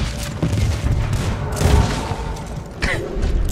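Repeated gunfire and booming shots from a King of the Castle match in Red Dead Online, a dense rattle of loud blasts with several sharp bursts over continuous background noise.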